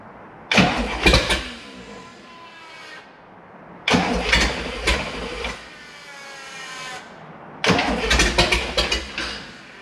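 Big Block Chevy marine engines on a 1985 Formula 302 boat crank and catch in three separate bursts, each a loud start that rumbles briefly before dropping back. No one speaks.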